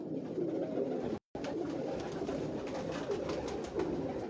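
Dub pigeons coo on a rooftop in Lahore, a steady low murmuring of several birds at close range, broken by a brief dropout, with no voices over it.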